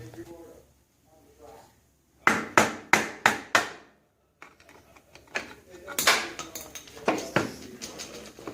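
A big 3/4 drive socket taps a part on a 1966 Ford F100 shop truck during a camshaft job, with four sharp evenly spaced metallic knocks followed by irregular lighter clanks and clatter in a workshop.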